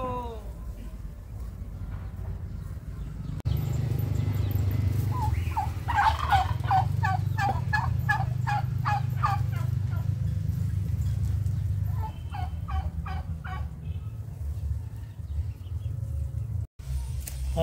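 A turkey gobbling repeatedly in rapid rattling bursts, close and loud, over a low steady engine-like hum, with a second shorter round of gobbles later and occasional voices.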